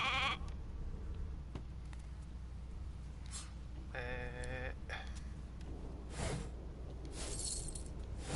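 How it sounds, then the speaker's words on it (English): A sheep bleats in the video game Divinity: Original Sin 2. Short, faint bleats rise over a steady low hiss, with a few scattered clicks and game sounds around them and no one talking. "a sheep."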